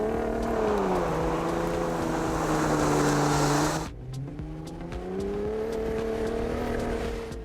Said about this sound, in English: Let's hear a nice little clip about this new exhaust.